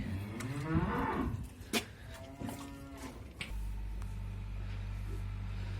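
Cattle moo loudly in a barn during daily livestock chores, a few long drawn-out lows close by, followed by a steady low hum.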